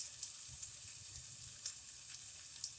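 Ham and eggs browning in a home kitchen pan give a steady, quiet sizzle with soft crackles and occasional small pops, heard alone.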